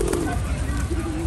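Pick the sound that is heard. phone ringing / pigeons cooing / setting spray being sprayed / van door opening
pigeons cooing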